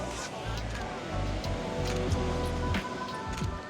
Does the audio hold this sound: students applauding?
no